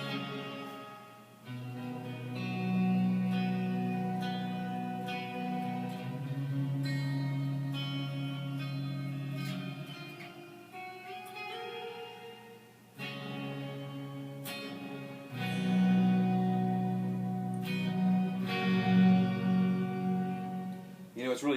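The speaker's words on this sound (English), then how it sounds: "But the Behringer 600, right? RV 600, set in the shimmer mode." Electric guitar chords from a Les Paul-style guitar ring out through a Behringer RV600 in shimmer mode, lush reverb with bright octave-up overtones swelling and lingering between strummed phrases.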